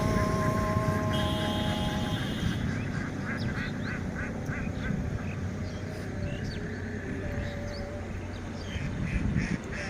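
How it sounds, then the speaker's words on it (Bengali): A large flock of ducks swimming together in flooded field water, quacking in overlapping calls with steady outdoor noise behind them. "দেখুন কত হাঁস একসাথে জমির ভিতরে পানিতে সাঁতার কাটছে"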